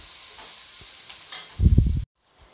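Vegetables stir-frying over a high flame for fried rice: a steady bright sizzle with a burst of louder stirring and tossing near the end before it cuts off, close to the pan.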